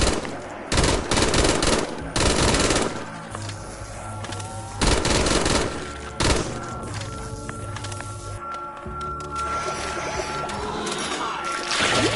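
SMG hipfire in the zombies video game Reminiscence Zombies, Pizzeria Remake map, with several loud rapid-fire bursts separated by quieter game noise and background music, close and harsh.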